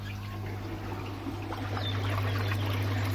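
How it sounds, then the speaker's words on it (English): Water bubbles and trickles steadily from a newly opened valve on a koi pond air lift, a continuous close gurgle over a low hum that swells slightly toward the end. "we get bubbling, and because I've opened this new valve, bubbles in there disappear"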